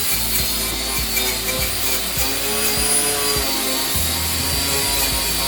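A grinder scrubs rust off a bus's metal body with a steady abrasive whir, interrupted by regular scraping strokes, close and fairly loud, without speech.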